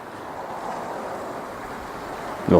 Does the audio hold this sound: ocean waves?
yes